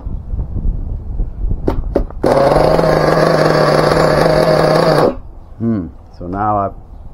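A nitro RC monster truck, a Team Associated MGT, revs hard at full throttle for about three seconds in a loud sustained scream, preceded by short blips and followed by two brief falling revs; the engine is running sluggish.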